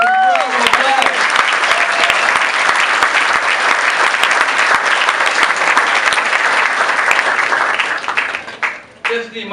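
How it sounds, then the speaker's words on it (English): A celebration crowd bursts into loud, close, sustained applause for a father being honored during speeches, the clapping dense and even before thinning out near the end, with some voices mixed in. "Can we give my father a big round of applause?"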